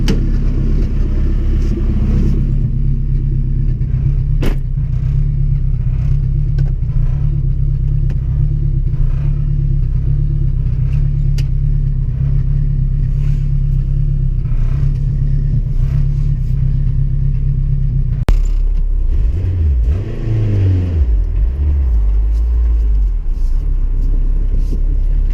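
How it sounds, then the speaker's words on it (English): A turbocharged Acura RSX drives on a short test drive, heard from inside as a loud, sustained engine drone and road rumble, then the revs shift near the end as the car accelerates. "let's go on a small test drive"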